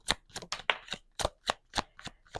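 Tarot cards being shuffled, a quick run of crisp riffling bursts, close and fairly quiet, with no talking.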